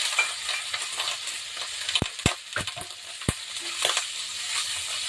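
Chicken meat drops into a frying pan and sizzles over a steady hiss, with a few sharp knocks and scrapes from a utensil against the pan. The sound is moderately close and no one speaks.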